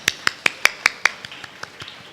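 A run of about ten finger snaps, evenly spaced and sharp, loudest in the middle of the series and fading toward the end, heard alone with no talking.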